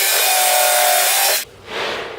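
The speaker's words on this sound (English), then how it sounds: "send your drill bit right through it again." A drill bit bores straight through wood while an overhead garage storage unit is built, a loud, steady whirring grind lasting about a second and a half before it cuts off abruptly, leaving a softer hiss afterward.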